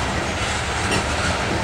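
Norfolk Southern freight train pulling out of an old yard, with a Canadian Pacific ES44 locomotive third in the consist, a loud continuous rumble and rolling rail noise filling the brief moment.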